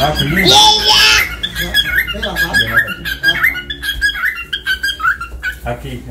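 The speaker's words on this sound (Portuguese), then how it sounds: "Olha os passarinhos cantando." Small birds squawk and chirp loudly nearby, with one sharp call near the start followed by scattered tweets while people talk over them.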